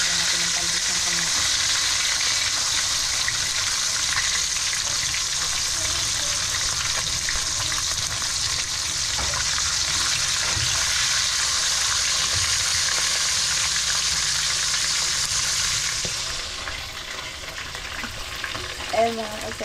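Grouper (lapu-lapu) fries in a pan with a loud, steady sizzle that runs throughout, then eases near the end as faint clatter appears.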